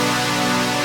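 A sustained synth chord from the Grey Area Chord Chill Out patch, used for future bass, hits with almost no attack and holds steady, loud and dense, with no voice over it.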